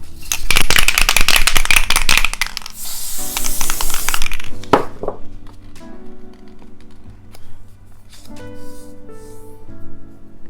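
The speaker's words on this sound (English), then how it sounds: "Now I'm going to take Elmer's spray adhesive" Elmer's spray adhesive hisses from an aerosol can in a loud, close burst lasting a few seconds, followed by quieter clicks and handling noises.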